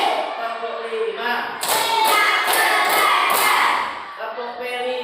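A primary school class claps hands in a rhythmic pattern, several bursts of sharp collective claps rising over children's voices and cheering in a classroom.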